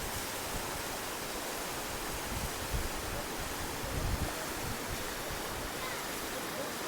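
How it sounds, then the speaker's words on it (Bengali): Kyukhola waterfall on the Silk Route in Sikkim, running low in winter, gives a steady broadband rush of falling water, moderately distant and continuous, with faint gusts swelling briefly. "আমাদের নেক্সট ভিউ পয়েন্টের নাম হচ্ছে কিউখোলা ওয়াটারফলস"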